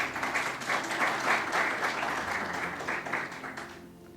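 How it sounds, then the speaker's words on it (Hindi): A church congregation gives a sustained round of applause, many hands clapping in a dense, even wash that holds steady before tapering off at the end. "मैं चाहना इन्हां लई जोरदार तालियां बजा दो"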